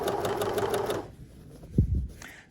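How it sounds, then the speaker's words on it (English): A sewing machine stitches the body of a skirt to its waistband in a short burst of rapid clatter that stops after about a second, followed by faint handling noises. "you're sewing the body of the skirt"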